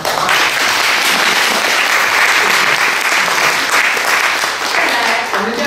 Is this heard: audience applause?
yes